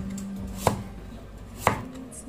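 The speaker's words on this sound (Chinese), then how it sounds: "然后给它改一下刀，把它切成滚刀块。" A knife chops through a peeled Chinese yam on a cutting board, cutting it into chunks. Two distinct, fairly faint chops land about a second apart over a quiet kitchen background.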